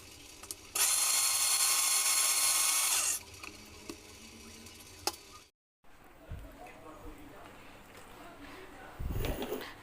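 Electric grinder whirring loudly for about two seconds while blending spice paste for chicken in a home kitchen, then stopping; quiet kitchen clatter and brief low knocks follow.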